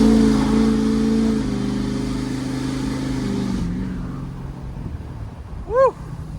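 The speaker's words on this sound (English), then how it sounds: "here's a good spot for me to floor it" A Ford F250 pickup's engine pulls hard under full throttle from a roll, a loud rising drone for a few seconds before easing off, followed by a brief quick whistle-like chirp.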